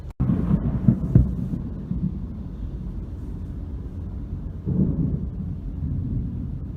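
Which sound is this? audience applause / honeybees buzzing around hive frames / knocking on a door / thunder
thunder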